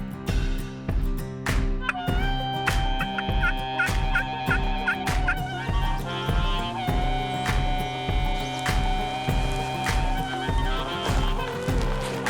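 A wild turkey gobbles during a spring turkey hunt in the fields. Its rattling calls repeat in a steady series at moderate distance, fairly soft against the quiet outdoors, with no talking.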